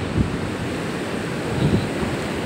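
Sea waves wash onto a beach at high tide, a steady rushing surf with two soft swells of breaking water, mixed with wind buffeting the microphone.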